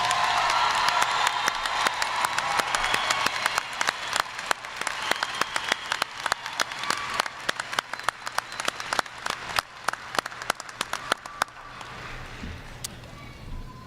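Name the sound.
graduation audience applause and cheering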